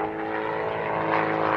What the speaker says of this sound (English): the aeroplane spinning flat before he recovers.